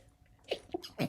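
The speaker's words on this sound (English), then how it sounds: "Pardon me, sneeze coming." A single close sneeze from someone speaking during a trading market commentary, a short sharp burst with a brief intake just before, standing alone in a quiet room.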